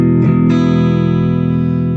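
A sustained, distorted electric guitar chord rings out, with a couple of quick strums near the start and then a long, steady sustain fading slightly to the end, loud and alone.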